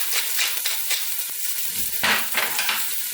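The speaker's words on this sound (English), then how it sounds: "And give that a quick stir just to move it around." Ingredients including habanero and fresh ground black pepper are stirred in a sizzling pot for a spinach rice soup, with scraping spoon strokes over a steady frying hiss, close and fairly loud.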